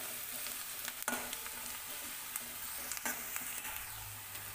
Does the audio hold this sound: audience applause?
no